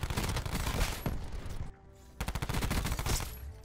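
A Switchblade X9 submachine gun fires rapid bursts in Black Ops 4, a dense chattering stream of shots, briefly pausing before another loud close-range burst.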